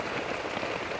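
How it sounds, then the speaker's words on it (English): Heavy monsoon rain in a Malaysian jungle pours down as a dense, constant hiss of drops hitting surfaces, loud and close, with no gaps. "you don't see rain like this in the UK"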